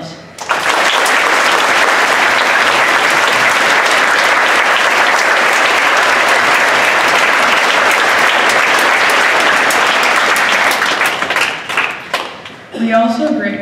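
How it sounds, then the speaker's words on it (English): An audience at a Veterans Day program in 2016 gives sustained, loud applause welcoming veterans, a dense unbroken roar of clapping that fades near the end as a voice returns. "Let us welcome our guests with a round of applause."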